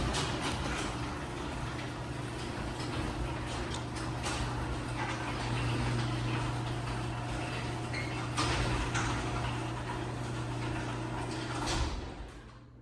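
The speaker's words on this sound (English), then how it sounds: "I'll close the door and here we go." LiftMaster 8355W opener running a Clopay garage door down: continuous motor drone and rolling, ticking track noise for about twelve seconds before cutting off, heard up close with a short clunk near the end.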